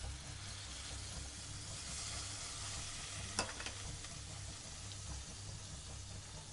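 Pasta sauce of garlic, tomato ketchup and cream cooking in a pan, giving a soft, steady sizzle with faint stirring scrapes throughout and no talking.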